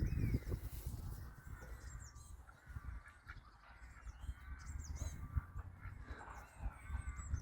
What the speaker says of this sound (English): I've been joined by the ducks.